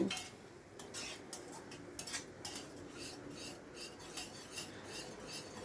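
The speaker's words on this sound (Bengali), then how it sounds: "দেখুন 1 মিনিট বাদে ঢাকাটা তুলে আবারও সব কিছু ভালো করে মিশিয়ে নিচ্ছি" A spice paste for a vegetarian dish is stirred and sautéed in a pan, a quiet run of metal scraping and clinking strokes over a faint sizzle, close and alone without talk.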